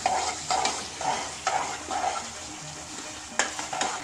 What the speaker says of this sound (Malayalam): ലാസ്റ്റ് ഇത്തിരി ഏലക്ക പൊടിച്ചത് ചേർത്ത് നന്നായി ഇളക്കുക.